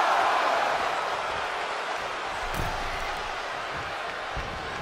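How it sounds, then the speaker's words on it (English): Video game arena crowd at a WWE 2K23 wrestling match between Jeff Hardy and Shelton Benjamin roars in a dense, steady wash of cheering, with a brief impact thump partway through. "The sound of this crowd is deafening"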